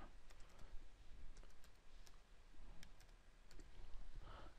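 Quiet, close typing on a computer keyboard, short bursts of light key clicks over a faint background hum.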